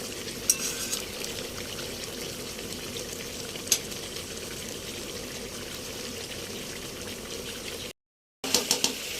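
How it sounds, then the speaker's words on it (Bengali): Spice masala for a chicken gravy frying in oil in a pan, a steady soft sizzle with occasional stirring clicks and a brief gap near the end. "আমার কিন্তু মশলাটা প্রায় কষানো হয়ে গেছে, তেলও ছেড়ে দিয়েছে।"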